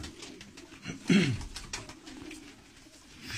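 Tumbler pigeons kept in Antalya, Turkey, give soft, low cooing calls near the microphone, with one fuller coo standing out midway against quiet background rustle.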